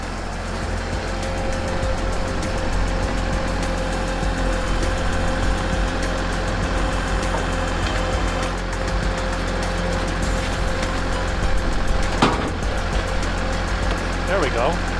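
A tractor engine runs steadily at a low, even drone in snowy farm conditions, close and constant, with a brief clank partway through and a faint thin whine near the end.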